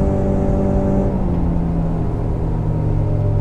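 A 1987 Arima SeaChaser 17 with a Yamaha 115 outboard runs at speed, about 37 mph, giving a steady, loud, droning engine roar with a constant rumble throughout.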